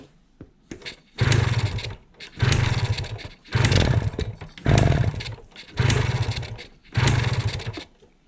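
Kawasaki G5 two-stroke motorcycle with a fouled plug, running roughly: six loud revving bursts of about a second each, separated by short drops, close by.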